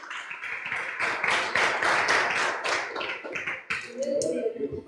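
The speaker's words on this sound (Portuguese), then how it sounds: "Aplauda o nome do Senhor nessa noite." A congregation at an evening church service claps in a quick rhythmic burst of hand claps that thins near the end as a voice begins.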